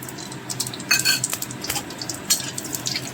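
Five-spice seeds (panch phoron) crackle and sizzle in hot oil, with scattered sharp pops and a spoon scraping and stirring in a pan.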